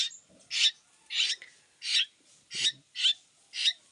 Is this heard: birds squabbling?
yes